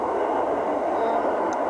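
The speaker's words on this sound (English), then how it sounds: "a plane going across as you can hear" A plane passing overhead outdoors on a dark, gloomy day, a steady broadband roar that is moderately loud and sustained throughout, with no talk over it.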